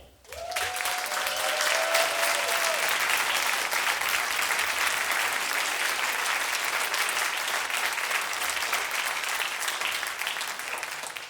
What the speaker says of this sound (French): je voudrais que vous fassiez un tonnerre d'applaudissements à Claire